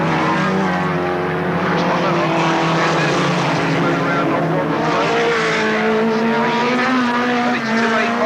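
Race cars circle Alwalton Raceway in 1983, a dense, continuous roar of several engines droning and shifting pitch as they pass, with commentary running underneath.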